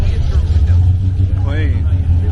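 A 1970 Chevrolet Chevelle's engine rumbling low and steady as the car passes nearby at a cruise, with a person talking over it.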